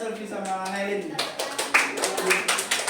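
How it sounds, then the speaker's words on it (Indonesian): A classroom of students breaks into applause for a small group, starting after a teacher's voice and building into scattered, lively clapping that carries on to the end. "tepuk tangan dulu untuk kelompoknya Selvi sama Helin"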